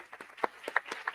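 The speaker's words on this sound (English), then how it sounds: "huge round of applause" Sparse, distinct claps from a few people greet the chief guest at an annual session and AGM, about a dozen separate hand claps in quick irregular succession, fairly faint in a quiet room.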